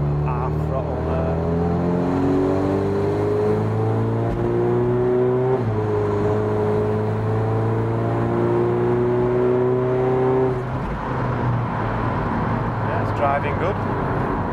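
A tuned 386 bhp VW Caddy Van with a 2.0 TDI common-rail diesel, DSG gearbox and 4Motion pulls hard under part throttle from inside the cabin, engine drone climbing through gears with a shift midway, steady and loud, a voice speaking over it.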